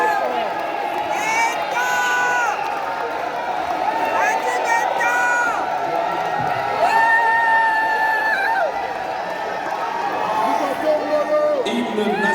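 Congolese diaspora crowd in Brussels cheering and whooping for DRC President Félix Tshisekedi, a dense, continuous roar of voices with shouts and whistles rising and falling throughout, loud and close.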